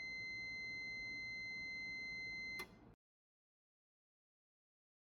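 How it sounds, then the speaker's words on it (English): A multimeter beeps with a steady high tone during an elevator relay trigger signal in a ButterflyMX elevator control system, holding for about two and a half seconds before cutting off into silence. "the multimeter will produce a beep that lasts for the duration of the trigger signal"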